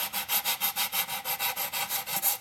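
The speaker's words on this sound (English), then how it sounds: "We'll just sand that off." Hand sanding of a painted wooden book box, a close, rhythmic scrubbing with about a dozen evenly spaced back-and-forth strokes of abrasive paper against the wood, with no talk over it.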